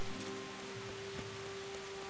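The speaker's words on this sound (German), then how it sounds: "Schon wieder am Regen." Steady rain in the medieval video game Kingdom Come: Deliverance, a quiet continuous patter of drops on surfaces with a faint constant hum beneath and occasional soft knocks.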